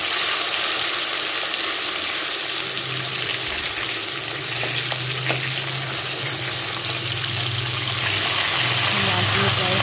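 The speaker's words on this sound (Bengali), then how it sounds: "মাছগুলো প্রায় ভাজা হয়ে গেছে, লাল লাল হয়ে গেছে, একটা হয়ে গেছে, আমি আর একটা ভেজে নিচ্ছি" Pieces of katla fish frying in hot oil in a pan, a steady loud sizzle throughout with faint stirring and a voice talking underneath.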